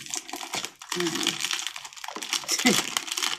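Plastic packaging crinkles and tears in short bursts, close up, with brief pauses between the rips.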